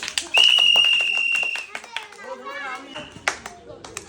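A crowd claps for a child at a village rolling-cylinder game outdoors, scattered hand claps and taps mixed with children's voices and an announcer talking, plus a sustained whistle-like tone early on.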